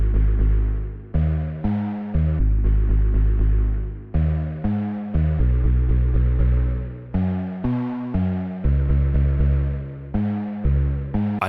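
A bass line from an electronic track plays alone, deep sustained notes in repeating phrases with short gaps between them, loud and steady with no other instruments or voices.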